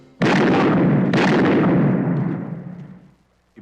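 A single loud, close gunshot booms in a dramatic film scene, then a second blast follows about a second later, and the reverberant roar fades over the next couple of seconds.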